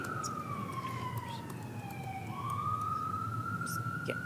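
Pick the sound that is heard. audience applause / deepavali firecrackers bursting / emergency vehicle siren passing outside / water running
emergency vehicle siren passing outside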